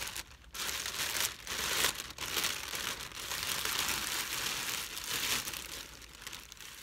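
Paper crinkles and crackles steadily for several seconds as a package is unwrapped to reveal a Dooney & Bourke Florentine leather domed bag. The rustling is close and continuous, with a few brief pauses and no talking.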